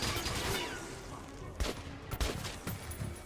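Gunshots in the video game Metro Redux: a few separate sharp reports, close and fairly loud, break through a dense, noisy ambient background over a few seconds.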